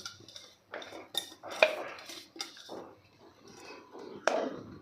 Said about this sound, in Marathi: आता इथे आपण ताट घेतलेला आहे आणि त्या ताटामध्ये आपण सगळं हे मिश्रण काढून घेणार आहे